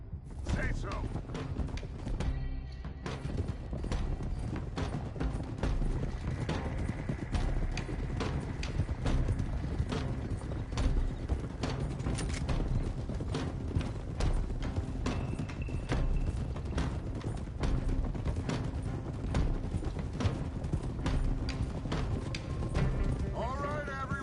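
Horses gallop in a PS4 video game, their rapid clip-clop hooves pounding steadily and close for the whole stretch while characters talk over them.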